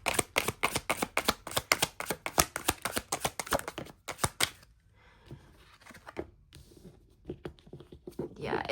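Tarot cards are shuffled close up in a quick, rhythmic run of papery riffles and slaps. After about four seconds it gives way to quieter, sparser card handling and soft taps.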